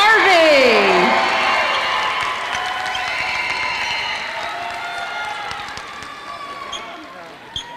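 A packed gym crowd at the 2022 Choice Broadband Classic boys' basketball championship award ceremony applauds and cheers in a dense, sustained wash. A voice rises briefly at the start, and the clapping slowly tapers.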